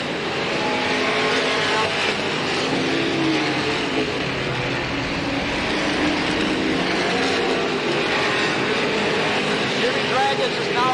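Sportsman stock cars racing at Slinger Speedway during the 1985 Fall Classic 100 feature, a steady dense roar of engines from the field lapping the track, with an announcer calling the race over it.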